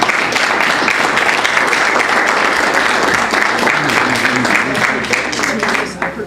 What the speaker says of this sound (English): so a big round of applause to start.